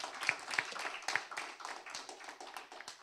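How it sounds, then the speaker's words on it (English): A small audience at a school debate competition claps for both teams: faint, sparse, uneven handclaps with a few louder individual claps, fairly distant. "Please give both teams a round of applause."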